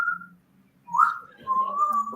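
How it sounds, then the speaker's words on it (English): Whistled bird-like notes come in short bursts, a brief tone, a pause, then a rising chirp and a longer sustained whistle, fairly close and clear over faint background murmur. "I was getting down with the birds whistling."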